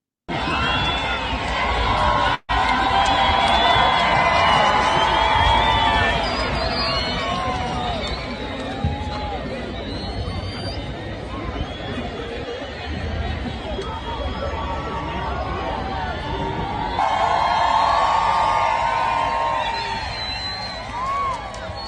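A big crowd jeers and shouts in a continuous, loud roar of many voices, with swelling bursts of noise that sound like booing.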